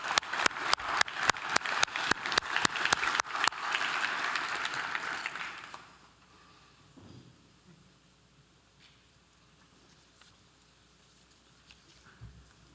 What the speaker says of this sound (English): Let's give Greg one more round of applause